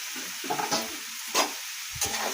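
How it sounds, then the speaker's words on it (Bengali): Vegetables and green chillies fry together in a pan, a soft sizzle broken by several scraping stirs of a spatula, close and fairly quiet with no voices. "তো অনেকটাই একসাথে ভাজছি"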